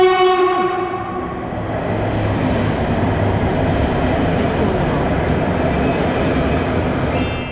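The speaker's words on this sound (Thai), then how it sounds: "รถไฟมาแล้วค่ะ" A train rumbles steadily into a station in Switzerland, a broad low roar with a brief horn-like tone at the start and a squeal near the end.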